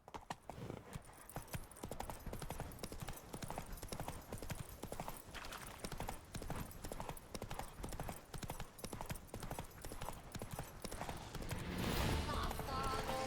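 A horse gallops across terrain in the video game The Witcher 3: Wild Hunt, its rapid, rhythmic hoofbeats drumming steadily and growing louder near the end.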